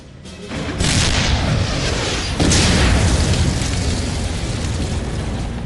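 A loud, heavy tank cannon boom erupts and rolls on, followed by a second blast about two seconds later, both leaving a long rumbling roar, in a World War II tank battle.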